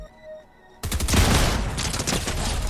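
Video game firefight between players with combat SMGs: a sudden burst of dense, rapid gunfire that keeps rattling continuously at close range after a quiet start.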